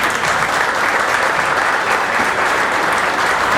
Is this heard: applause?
yes